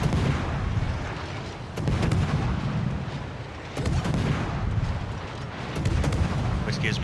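Incoming artillery shells in the naval combat game World of Warships, heavy booming impacts and rumbling gunfire that come in loud waves every couple of seconds over a constant roar.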